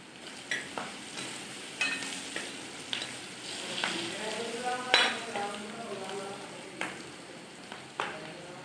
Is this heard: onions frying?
yes